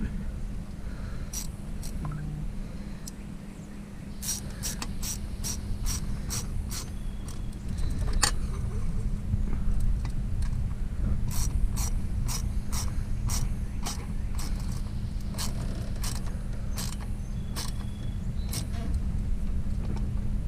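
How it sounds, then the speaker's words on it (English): On a 2001 Honda Accord, a ratchet with an 8mm socket tightens the intake piping clamp in bursts of sharp, rapid clicks over a steady low hum. "Again, you can tighten this with an 8mm"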